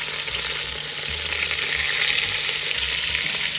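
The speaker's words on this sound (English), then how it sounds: "See the nice, beautiful sear that you can get in your Ninja Foodi or your Instant Pot to cook your chuck roast" A chuck roast sears in a Ninja Foodi, giving off a steady, dense sizzle of frying meat that holds at an even level throughout, with a faint low hum beneath and no one speaking.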